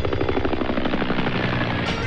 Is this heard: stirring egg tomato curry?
no